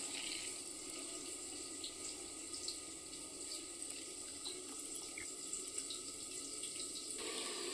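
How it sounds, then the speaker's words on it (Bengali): Water squeezed by hand out of chopped water lily stems drips and trickles steadily into a bowl, a close, continuous splashing that runs alone without talk. "পুরো জলটাকে একদম চিপে নেব এইভাবে জলটাকে পুরো চিপে নিতে হবে"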